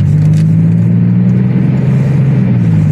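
A turbocharged Toyota/Lexus GS300 engine revs loudly and close in first gear, a thick, steady drone that holds with a slight pitch swell and dip.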